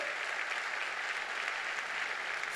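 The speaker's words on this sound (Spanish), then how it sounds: "Dele fuerte ese aplauso a Dios." A church congregation at a Sunday morning service breaks into steady, sustained applause, an even wash of clapping from many hands with no talk over it.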